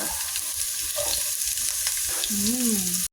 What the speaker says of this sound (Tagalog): nag-brown na yung ating sibuyas at bawang. Pwede na natin ilagay yung ating ampalaya.